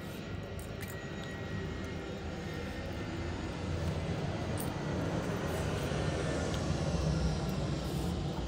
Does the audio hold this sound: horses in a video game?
no